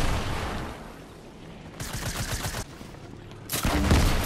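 Grenade launcher fire in the battle royale game Fortnite, bursts of dull rapid blasts and booming explosions in two clusters, the second louder and closer, with no voices.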